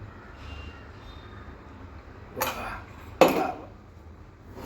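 Salad tossed with dressing in a bowl: two short, sharp clatters of utensils against the dish stand out over a quiet, steady background.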